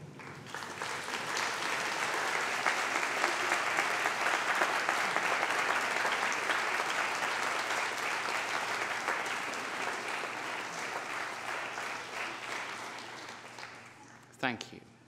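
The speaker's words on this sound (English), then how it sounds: "So stand up and give them some applause." Graduates on their feet at a graduation ceremony give sustained applause, a dense, steady roar of clapping from a large crowd that holds for most of the stretch and then thins out at the end.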